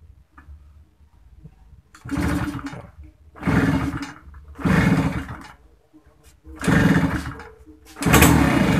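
A Yamaha V80 motorcycle engine with an ignition fault sputters to life in several short bursts, each revving briefly before cutting out, with quiet pauses between attempts.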